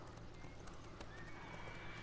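Horse hooves clip-clop steadily in The Witcher 3: Wild Hunt, a continuous rhythmic trot over a game ambience bed with no talk.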